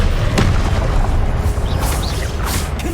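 A spell lands in the Hogwarts Legacy video game as a loud, booming magical blast with a dense rumbling burst and whooshing effects, heavy and close throughout.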